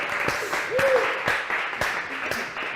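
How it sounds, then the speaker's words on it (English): Audience applause at a gathering, a moderate wash of clapping with a few distinct nearer claps, steady throughout and mixed with faint background voices. "Give yourselves a round of applause."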